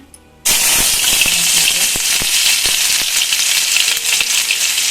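Crushed garlic hits hot oil for a Kannada greens and sprouted-gram palya, bursting into a loud, continuous close sizzle after a brief quiet start, with faint stirring clicks throughout.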